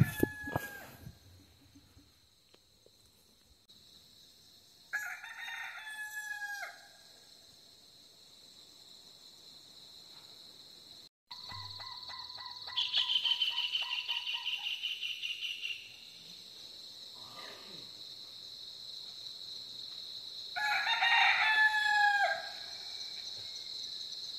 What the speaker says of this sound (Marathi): हा कोंबडा वगैरे ओरडण्याचा आवाज